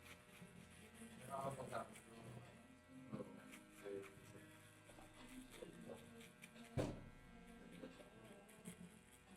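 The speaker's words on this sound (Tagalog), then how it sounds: "i-shaver natin yung pinakailalim." An electric shaver trims the lowest part of a back taper fade haircut, its buzz rising and falling intermittently beneath someone talking.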